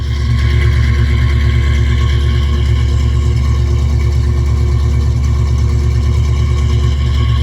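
A 1972 Bentley T1's engine runs steadily after a cold start, a loud, close, continuous low rumble with an even idle pulse throughout and no talk.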